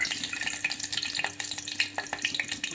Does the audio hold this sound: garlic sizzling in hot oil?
yes